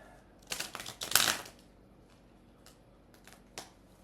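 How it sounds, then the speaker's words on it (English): Oracle cards being shuffled by hand in a quiet room, a few soft riffling bursts and taps, the loudest early on, then sparse faint clicks, with no talking. "We're just going to keep shuffling. Shuffle, shuffle, shuffle."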